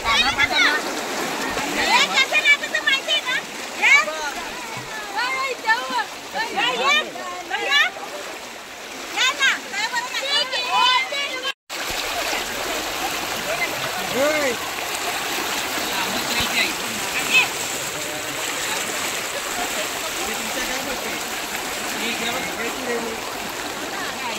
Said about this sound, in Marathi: थोडं जोरात पाणी वाहतोय।